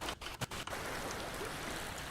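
Strong ocean waves rush as a dense, steady hiss of surf during a live sound healing session, after a few brief dips at the start, loud and continuous with no voices.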